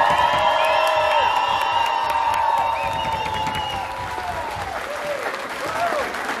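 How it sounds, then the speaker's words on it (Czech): A crowd at a Czech carnival bass-burial night breaks into loud, sustained applause with cheering and whoops for the second couple, while music and a few shouting voices ring over the dense clapping. "A nyní poprosíme o potlesk pro druhý pár."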